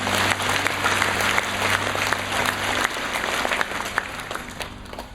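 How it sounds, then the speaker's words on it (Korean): Sustained applause from a church congregation, steady and dense across the whole stretch, moderately loud with a constant low hum underneath. "영광의 박수 올려드립니다"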